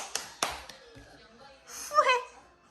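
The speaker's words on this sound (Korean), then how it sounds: "박수 치고. 박수 쳐주세요, 아빠" A few sharp hand claps ring out close by at a toddler's daycare celebration, followed by a voice and adult talk.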